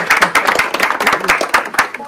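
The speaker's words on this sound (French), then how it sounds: "On peut s'applaudir." Small audience at a school resistance-contest award event clapping, a loose, uneven run of distinct claps from a few nearby people with voices talking over them.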